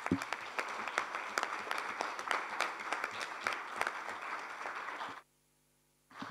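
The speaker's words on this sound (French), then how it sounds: "les applaudissements suffisent à eux-mêmes pour témoigner de l'affection que ce grand témoignage mérite" An audience at a colloquium applauds a tribute with steady, moderately loud clapping and crisp individual hand claps, then it cuts abruptly to near silence before faintly resuming.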